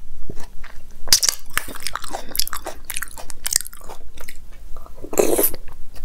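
A person eats fruit custard with banana, grapes and pistachio, with close, irregular wet chewing and a few sharper crunchy bites scattered through several seconds.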